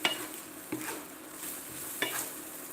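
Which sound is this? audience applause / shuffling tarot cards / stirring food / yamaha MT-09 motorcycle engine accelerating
stirring food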